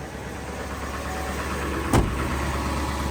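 A 7.3 truck engine running at a high idle, a steady, even rumble that holds throughout with one brief louder knock near the middle and no talking.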